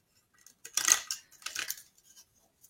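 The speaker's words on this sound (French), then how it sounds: "Je vais tourner la manivelle dans le sens inverse des aiguilles d'une montre afin de faire avancer mon papier et de créer le gaufrage linéaire." A paper embossing machine's crank turns counterclockwise to feed paper for linear embossing, giving two short bursts of close metallic clicking and grinding with quiet gaps, no voices.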